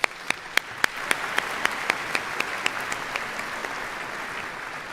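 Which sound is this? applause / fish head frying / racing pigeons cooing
applause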